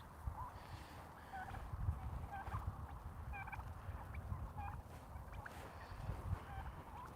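Young turkeys gobble in repeated short bursts at sunset on a small farm, moderately loud over a steady low outdoor rumble, with no talking.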